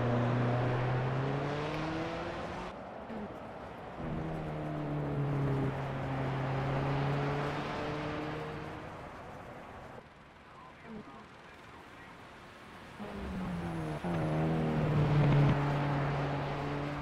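A Ford Sierra RS500 Cosworth Group A racing car in Project CARS at Hockenheim, its engine roaring loud and close, climbing in rising sweeps through the gears with brief dips between shifts.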